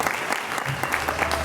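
Audience applause at a cabaret evening, a brisk, close burst of dense hand clapping filling the short moment, with faint crowd murmur beneath.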